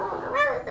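A human voice imitates a pack of hound dogs barking and baying during a tabletop fantasy game, a short, high, wavering howl-like cry that rises and then breaks off.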